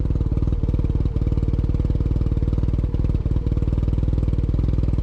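A Yamaha TMAX 530 DX scooter fitted with a Termignoni exhaust idles close by, its engine putting out a steady, even, raspy pulse with a few small irregular dips.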